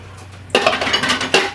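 Dishes and cutlery clatter as a home kitchen dishwasher gets loaded, a short burst of clinking plates and silverware, close and moderately loud after a quiet start.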